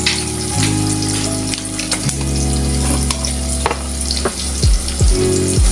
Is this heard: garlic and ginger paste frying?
yes